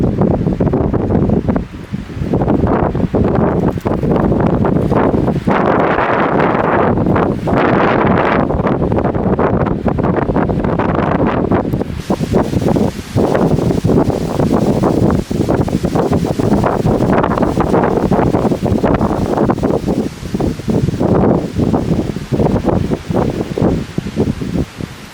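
Wind gusts buffeting a Sirio Boomerang balcony antenna outdoors, a steady broadband roar with rustling fluctuations and surges lasting throughout, loud and close to the microphone.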